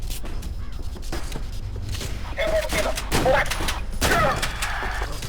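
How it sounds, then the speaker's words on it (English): Shotgun blasts in the video game ADACA, several loud separate booms spaced a second or so apart over busy game noise, with a voice talking between them. "Excellent shot with the shotgun"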